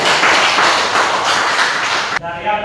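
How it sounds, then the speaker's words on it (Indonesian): A school class claps hands together during a teaching practice lesson, a dense burst of clapping that cuts off abruptly near the end, followed by a brief voice. "Tepuk tangan dulu."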